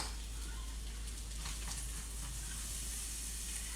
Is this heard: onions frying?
yes